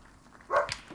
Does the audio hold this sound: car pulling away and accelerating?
no